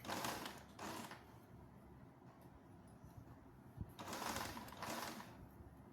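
A sewing machine stitching the panel binding of a round-neck gathered nightie runs in two short bursts of rapid mechanical whirring with a quieter pause between them. It sounds close and moderately loud, with no voices over it.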